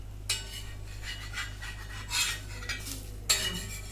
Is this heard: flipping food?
yes